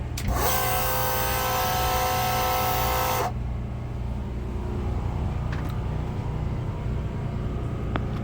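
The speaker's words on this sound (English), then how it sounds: "Now listen to the pump, so you know it's a burly guy." Fuel pump of a drag race car, powered by two RC car batteries, runs with a loud steady whine for about three seconds, then cuts off, leaving a low hum of background noise.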